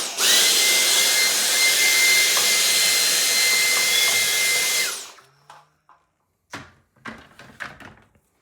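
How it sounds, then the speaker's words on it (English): A household vacuum cleaner runs loud and steady for about five seconds, then shuts off, followed by scattered clunks and knocks in a quiet room. "vacuum's right here, and you can easily clean up messes."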